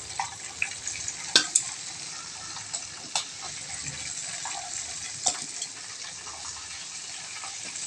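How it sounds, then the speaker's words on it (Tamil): Chicken frying in oil in a pan for Kerala biryani, a steady soft sizzle with occasional clinks and stirring scrapes, fairly quiet and close. "பிரியாணி அரிசி சிக்கன் பொரிச்சிட்டு இருக்கேன்"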